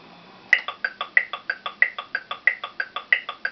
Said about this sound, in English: That comes in at about 90 on the metronome.